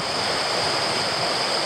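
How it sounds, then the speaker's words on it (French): The Fier river flowing near its source in Thônes, Haute-Savoie, making a steady broadband rush of moving water with no pauses and no voices. "Ici, on peut voir la rivière. Le Fier, c'est le début du Fier"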